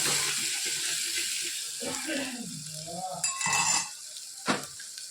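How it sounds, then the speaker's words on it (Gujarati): Red chili powder, coriander-cumin powder and garam masala are stirred in a pan over a soft, fading sizzle, with scraping clinks of a spoon and a brief low voice in the middle. "લાલ મરચું, ધાણા જીરું, ગરમ મસાલો સરસ બધું મિક્સ કરી દઈએ"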